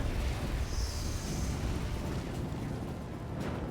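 A grenade blast in the Mass Effect video game: a broad, rumbling explosion sustained throughout, with a faint hissing whine early on and a small second burst toward the end.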